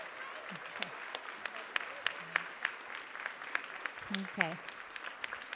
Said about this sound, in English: There can be a never-ending round of applause for all the lovely performers on stage.